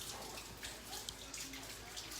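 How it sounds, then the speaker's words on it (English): Hands being washed under a running kitchen tap, water pouring and splashing steadily at close range with a few small drips and splashes, no talking. "let me just wash my hands again."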